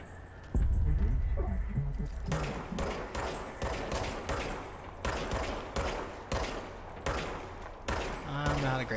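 Rapid bursts of gunfire from a weapon in the action video game Control, about a dozen loud sharp shots in quick succession following a heavy thump, with a faint voice underneath at the start.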